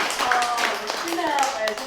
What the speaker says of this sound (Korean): 자, 두 분께 격려 박수 좀 쳐주십시오.